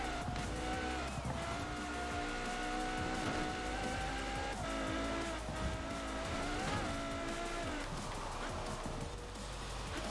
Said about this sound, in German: Sobald ich auf Vollgas gehe, rutscht er mal weg.